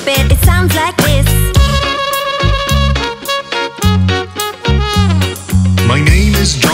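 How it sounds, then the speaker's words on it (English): A trumpet plays a melody in a reggae song over a full band with bass and rhythm backing. The brass line is bright and loud, with no talking over it. "Hear my trumpet, it sounds like this."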